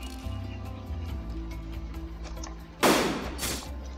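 Gunfire in the Blox Fruits video game: two sharp, bright blasts in quick succession near the end, over a low, humming game background.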